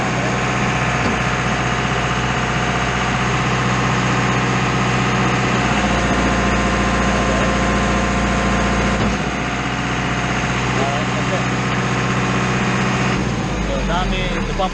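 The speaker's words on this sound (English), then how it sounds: "you're going to turn the pump on and then you're going to hold the pressure out valve and it'll get pressure up" A Putzmeister TK70 hydraulic pump mounted on an Isuzu truck runs with a loud, steady engine drone and hum, building pressure continuously, close by and without a break, with only faint clatter near the end.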